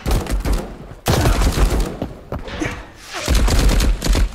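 Player gunfire in the video game Marauders, bursts of loud rapid shots and thumps in quick clusters with brief gaps, harsh and close, with no talk.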